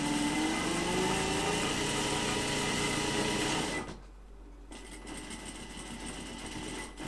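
A binding machine sewing fabric masks at high speed gives a loud, steady mechanical whir that continues nonstop for about four seconds, cuts out abruptly, then comes back faintly as the machine slows or restarts.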